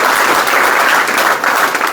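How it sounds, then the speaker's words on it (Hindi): Dense, loud applause from a crowd of young men in Chudla village in Rajasthan, steady close clapping with no pauses. "चूड़ला बस्ती के सभी ये नौजवान से ताली बजा के इनका स्वागत करें"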